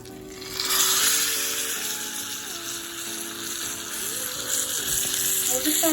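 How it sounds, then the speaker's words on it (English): Meat for a pot roast browns in a hot skillet, sending up a loud, continuous sizzle that swells after the first second and holds steady, with a faint tonal hum running underneath. "I'm going to brown my meat and then put it in a crock pot"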